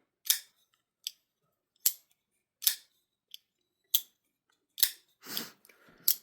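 A folding knife is flicked open by its thumb stud again and again, about eight crisp, close detent clicks and snaps spaced in an uneven rhythm against near silence, with one softer swishing rustle near the end.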